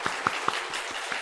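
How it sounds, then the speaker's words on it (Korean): Church congregation clapping during a Sunday worship service, a short burst of scattered hand claps with a few distinct sharp claps standing out, fairly faint and brief. "우리 함께 축복의 박수를 우리 맞으십시오."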